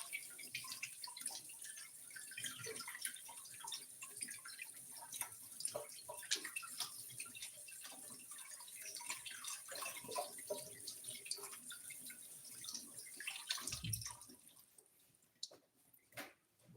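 Tap water runs steadily in a home kitchen as fingers are rinsed after kneading doughnut dough, with splashes and drips, fairly close and with no talk over it.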